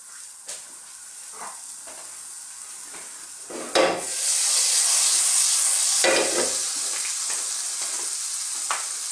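Unsalted butter with chopped garlic and salt fries in a pan over low heat, a soft crackle that swells into a loud, sustained sizzling hiss after a few clattering stirs.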